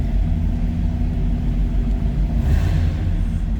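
A 1939 Buick Special Model 46 Business Coupe with its 248 straight-eight idling after a cold start, a steady low rumble with even, throbbing pulses and no voices.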